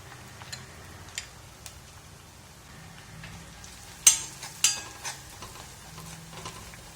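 Curry leaves fry with onions in a pan while potatoes are being cooked, a quiet steady sizzle broken by a few sharp crackles and spits near the middle, with light stirring clicks.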